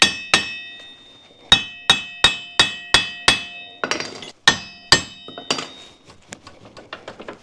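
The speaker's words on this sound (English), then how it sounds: "Let's get a hammer." Hammer blows knocking against an ATV wheel assembly and brake disc to free it, about a dozen sharp metallic ringing strikes in a steady rhythm, loud and close, then scraping and lighter clanks.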